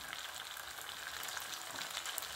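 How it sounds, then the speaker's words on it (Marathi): Garam masala, chili powder, coriander and turmeric fry in a pan for a Khandeshi urad dal curry, giving a soft, even hiss of sizzling oil with faint crackles and no voices. "आता हे छान फ्राय होऊ द्यायचं आहे"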